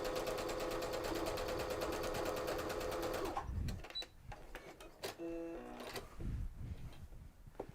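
A sewing machine quilting with a quarter inch foot and quilting guide bar runs in a fast, even rhythmic stitching burst for a few seconds, then stops, followed by clicks and small mechanical handling noises.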